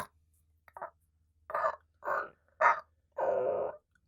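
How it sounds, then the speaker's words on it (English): Crows croaking harshly as an ambient effect for a dark fantasy path, five or so separate rough caws spaced about half a second apart, fairly close against near silence. "it is a sickly croaking of crows"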